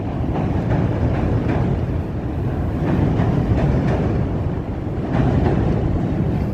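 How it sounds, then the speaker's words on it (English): Chicago L Green Line trains crossing the river, heard from a nearby street as a continuous loud, rumbling roar with some wind buffeting and no talking. "One train goes one way, one goes the other, crossing the river there."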